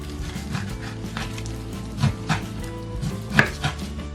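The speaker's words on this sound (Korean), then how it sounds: "그 다음 고구마와 잘 섞이도록 잘게 썰어주세요" Kimchi being finely chopped with a knife on a board, a run of quick, close chops with a few louder strikes near the end, and no voices.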